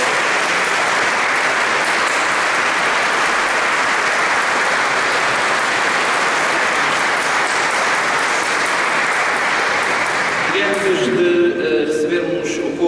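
Audience applause for the organist at an autumn choir concert, a dense, steady wash of many hands clapping for about ten seconds before thinning out as a few voices and faint tones come in at the end.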